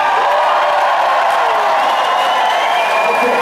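Concert crowd at the Paradiso in Amsterdam applauding and cheering in a steady, dense roar that fills the room, with scattered whoops rising above the clapping throughout.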